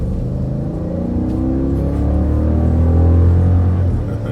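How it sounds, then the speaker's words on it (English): A Jeep SRT with a Hemi V8 revs hard nearby, a loud, deep, continuous rumbling roar that climbs steadily in pitch and holds strong throughout. "nothing sounds better than the sound of that Hemi just screaming, begging me to hit the pedal more, begging for more fuel"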